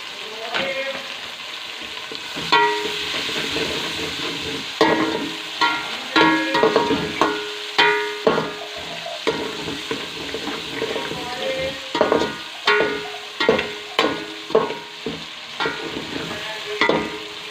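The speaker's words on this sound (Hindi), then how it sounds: "उसी ऑयल में हमने प्याज को फ्राई करना स्टार्ट कर दिया है।" Onions frying in hot oil in a pan, with a continuous sizzle and a rhythmic series of stirring scrapes and clinks throughout.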